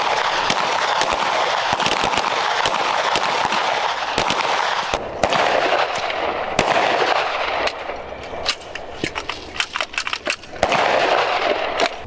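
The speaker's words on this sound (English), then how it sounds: "Breaking that shot, nice clean trigger press." Rapid bursts of sharp gunshots crack at a target during shooting practice, loud and close, with strings of shots and brief gaps between them and no talk over the fire.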